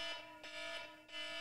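A fire alarm sounds in repeated short electronic beeps, steady and evenly spaced, with no voices over it.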